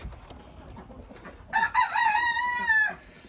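A hen in a backyard coop gives one drawn-out call, close and fairly loud over faint background noise.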